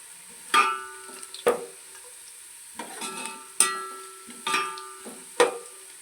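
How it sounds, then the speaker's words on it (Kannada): Masala for mutton pulao fries in a pan while a spoon stirs it. Sharp metallic scrapes come in an irregular rhythm over a faint sizzle, close and clear, with no voices. "ನೋಡಿ ಈ ರೀತಿ ಕೆಂಪುಗೆ ಫ್ರೈ ಆಗಬೇಕು"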